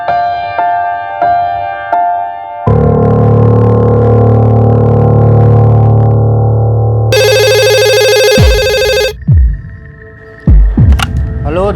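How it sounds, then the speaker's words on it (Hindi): Phone-line tones: a dial sound, then a loud buzzing tone followed by a bright electronic ringing pattern and a few short beeps and clicks. "मैं वर्कशॉप में फोन करके देखता हूँ।"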